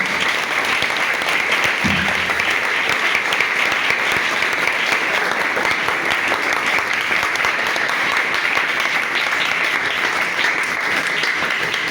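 A church congregation at a Sunday service claps loudly and steadily on request, a dense continuous wash of applause filling the whole stretch without pause.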